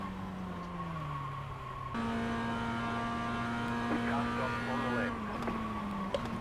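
Race car engine in the iRacing sim, a steady droning tone that climbs and falls with gear changes through corners, heard under light game ambience.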